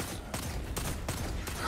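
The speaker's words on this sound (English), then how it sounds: "This hand cannon" Destiny 2 hand cannon with Rampage and High Impact perks firing in a video game, five or six heavy, evenly spaced shots over a steady din of game noise.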